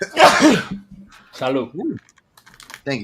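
A sharp, loud sneeze bursts out at the start, followed by a few spoken words and some light clicking.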